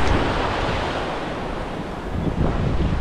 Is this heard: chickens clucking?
no